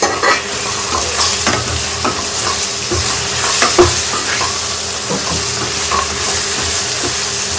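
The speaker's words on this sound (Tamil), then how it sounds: "நல்லா வதக்கி விட்டுறலாம்." Garlic and chopped tomatoes sizzle in a pan for prawn gravy while a spoon stirs and scrapes, steady frying hiss with irregular clatters of the utensil, close and loud.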